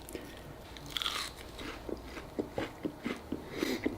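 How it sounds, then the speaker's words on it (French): Crunchy homemade fish croquettes made from bass, served with tartar sauce, are bitten and chewed up close, giving a string of short crisp crunches in a steady rhythm with no talking over them. "Des bonnes croquettes de poisson. Fait que on va goûter à ça"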